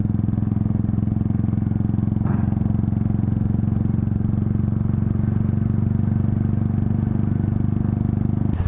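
Royal Enfield motorcycle ridden along the road to Lonavala, its engine giving a loud, steady, thumping drone that fills the whole stretch without a break, heard from on board with constant wind and road noise.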